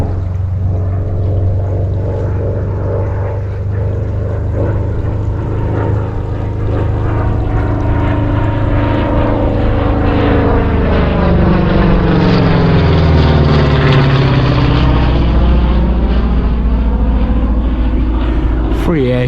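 Piston-engined Spitfire fighter making a flying display pass at an air show, a loud continuous propeller drone that rises and shifts pitch as it sweeps by overhead, with a faint voice underneath.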